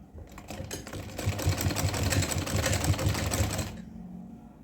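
A sewing machine runs a quick burst of rapid, even stitching on a small Laddu Gopal doll dress, close and clear, starting and stopping abruptly after a few seconds.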